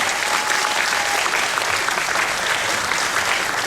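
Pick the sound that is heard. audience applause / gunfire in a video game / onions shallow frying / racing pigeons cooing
audience applause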